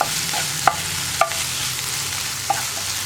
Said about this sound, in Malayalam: നന്നായിട്ടൊന്ന് ഇളക്കി മിക്സ് ചെയ്യുക.